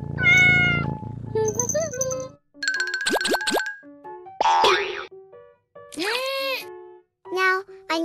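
Cartoonish cat meows mixed with boing and ding effects, in bright, loud bursts one after another in a playful setting, with a childlike voice here and there.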